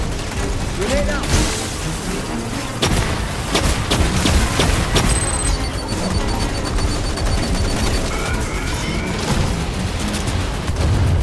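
Grenade blast amid rapid gunfire in Aliens: Fireteam Elite 2, sharp repeated shots and booms crowding together, loud and near, with brief voice lines over the battle noise.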